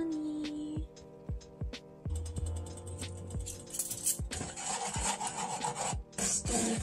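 Honey being stirred into a cornflake mixture in a home kitchen, a steady scraping and rasping of a utensil against the pot with repeated knocks, close and fairly loud, no talking.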